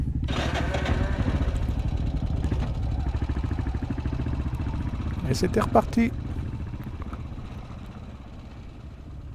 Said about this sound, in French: On sait que c'est sa moto, il fait quand même du bruit.